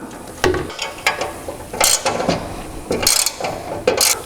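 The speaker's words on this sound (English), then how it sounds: "And these are 10 millimeters, so just snug them up real tight." A ratchet clicks in short bursts while snugging down 10 mm mounting bolts on a 20-inch LED light bar, with several quick rounds of pawl clicks separated by brief pauses, close up.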